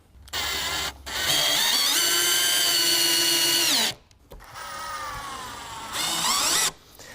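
A power drill drives screws into a shutter bypass track during installation. There are two bursts of whirring a few seconds each, with the pitch rising as the motor spins up, and a short pause between them. It is close and loud, with no voices.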